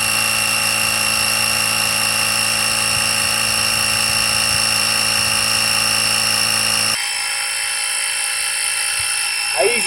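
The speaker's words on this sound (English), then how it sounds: "it will automatically start pumping it up. Now this has a really good fast compressor on it." A VTOMAN X3 jump starter's built-in air compressor pumps up a tire with a loud, steady, buzzing drone close by. The pitch and texture shift partway through as the pumping continues.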